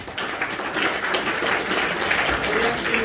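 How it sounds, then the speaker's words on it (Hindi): Crowd applause at a school math day celebration at GSSS Hassanpur, honoring participating teams: steady, dense clapping from many hands throughout, with faint voices mixed underneath. "एक बार तो भाई सभी टीमों के लिए तालियां बजाओ जिन्होंने भाग लिया"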